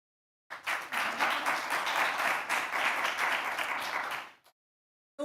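A council committee meeting audience breaks into sustained applause for two pickleball club presenters, dense clapping building quickly and holding steady for about four seconds before dying away.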